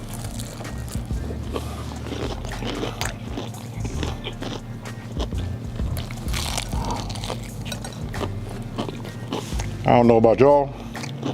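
Someone bites into a piece of crunchy buttermilk fried chicken, giving a short burst of crisp crunching near the end, after a stretch of someone talking over a busy kitchen background.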